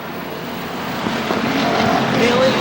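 Stock race cars roar around the oval at Star Speedway, a loud, steady wash of engine noise and crowd din building slightly, with a track announcer speaking over it.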